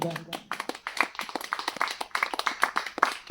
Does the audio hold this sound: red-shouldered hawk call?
no